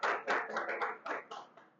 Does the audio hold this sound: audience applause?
yes